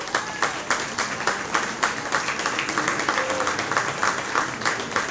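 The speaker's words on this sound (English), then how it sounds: "we're scrapping the hold your applause thing" An audience at a university athletics hall of fame induction celebration claps steadily in a large hall, sustained applause from many hands at moderate loudness with no break.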